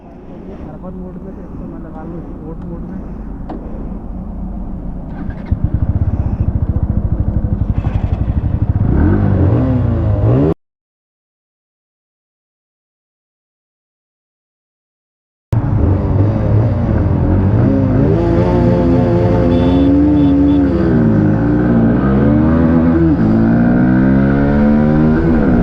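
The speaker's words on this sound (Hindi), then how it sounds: "सबसे पहले मैं चलाऊँगा आपकी बजाज की NS।" A Bajaj Pulsar NS160 motorcycle revving and accelerating hard during a drag race, a loud rising engine note that climbs through gear changes, cuts out abruptly midway, then returns with more high revving.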